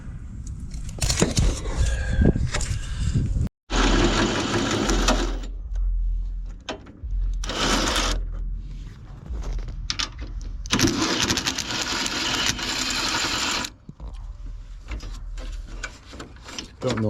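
A power tool pulls out bolts on a 2007 Buick Lucerne during radiator removal, with loud whirring bursts of several seconds each separated by short pauses and clunks, close by.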